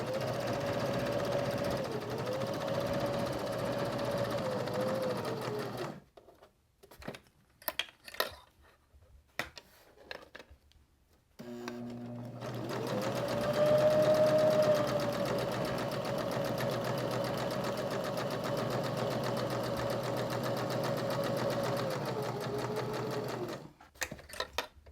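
A sewing machine stitches fabric in steady bursts of rapid mechanical whirring, pausing in the middle for a few short stops and starts, then running on evenly again close by.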